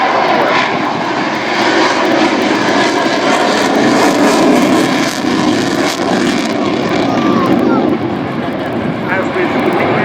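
Aircraft engine roaring steadily and loudly throughout an airshow flying display at the Royal International Air Tattoo, Fairford, with a broad sustained rumble and a faint voice commentating over it.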